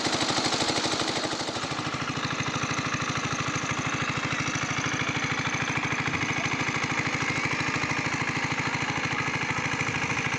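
Engine-driven pump running steadily while draining a home fish pond, a continuous close mechanical chug with a fast, even pulse and no pauses.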